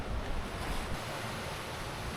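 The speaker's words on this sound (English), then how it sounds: "The waves have calmed a little bit" Open-ocean waves rush and wash against a sailboat making about 7-8 knots on a passage from the Caribbean to the Bahamas, a continuous loud surging roar mixed with wind buffeting on the microphone, with no voices.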